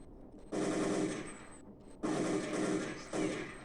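Automatic rifle fire in Counter-Strike 1.6 comes in three short, loud bursts of rapid gunshots separated by brief pauses.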